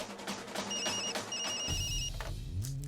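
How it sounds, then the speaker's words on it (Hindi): A phone rings with a steady electronic trill for about a second and a half, then a low rumble and muffled noise take over. "फोन बज रहा है, सुनाई नहीं देता?"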